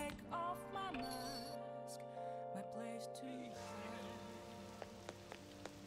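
Rain pattering steadily on a rainy day in the video game Persona 5 Royal, soft ticking drops under a sustained musical tone with a few sharper clinks near the end.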